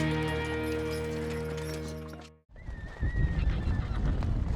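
A horse whinnies loudly and tonally, breaks off, then hooves clatter and shuffle close by with a faint second call in the background, during a drive of a herd of horses and mules.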